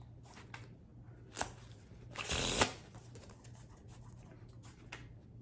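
A new deck of playing cards being shuffled by hand, with a soft riffle, an isolated snap, then a dense louder burst of cards riffling together before quieter handling resumes.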